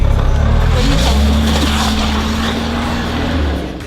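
Car straining to pull away on a slippery snowy road, a loud continuous engine hum with a steady tonal whine, gradually easing off near the end.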